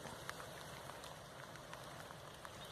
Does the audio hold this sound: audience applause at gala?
no